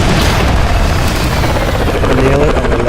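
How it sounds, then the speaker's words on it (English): Ka-50 attack helicopter firing its cannon in the DCS World flight simulator, a loud dense roar of rapid gunfire blended with rotor and engine noise, continuous and close. "As you see here, I'm firing my gun, using my good old cannon."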